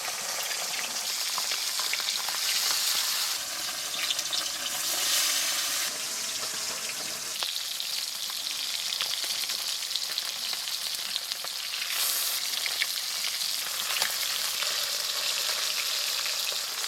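Food frying in mustard oil in a wok makes a steady, dense sizzle and crackle that lasts throughout, swelling and easing slightly, with occasional stirring and no talk.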